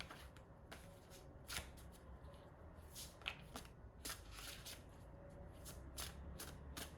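Oracle cards being shuffled by hand, a soft papery riffle and rustle repeating in quick bursts throughout, close and fairly quiet with no talking.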